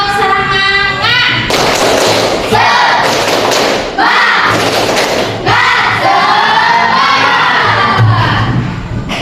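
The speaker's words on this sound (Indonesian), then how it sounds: "Coba ibu kita tepuk semangatnya dulu." Schoolchildren in a classroom perform a rhythmic 'tepuk semangat' clapping chant, loud bursts of unison claps and thumps mixed with shouted chanting voices, close and energetic throughout.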